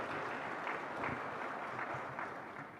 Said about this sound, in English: let's invite our BODs today by giving applause.